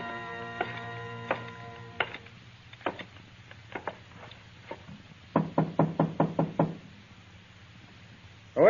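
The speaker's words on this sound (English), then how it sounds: "Open the door, Carter." Knuckles rap on a wooden door in scattered single knocks, then a fast run of about eight firm knocks, close and clear in an old radio drama scene.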